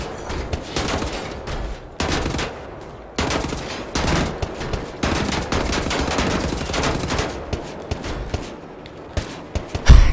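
Video game gunfire crackles in loud, dense volleys of rapid automatic shots, nearly continuous for ten seconds with brief gaps, close and with no talking.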